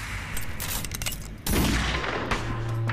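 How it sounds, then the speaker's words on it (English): A video game Browning Automatic Rifle (1918, .30 caliber) firing a loud, dense burst of automatic gunfire, continuous sharp reports with a heavier surge midway, close and alone without talk. "BAR, Browning automatic rifle. Caliber 30."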